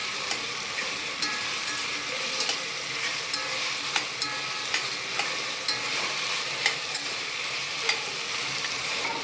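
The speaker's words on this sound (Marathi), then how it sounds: "एक 2 मिनिटं आपल्याला तेलात फ्राय होऊ द्यायचं आहे।" Soybeans for a biryani frying in hot oil, a dense continuous sizzle with a crackling hiss that stays loud and steady throughout, punctuated by light periodic clicks of stirring.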